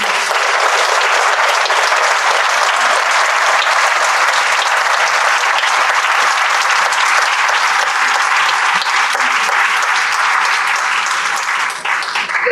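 Dense, loud audience applause fills the hall after a talk at the Fuenlabrada Dinámica conference day in 2019, a steady roar of many hands clapping for about twelve seconds before easing slightly at the end.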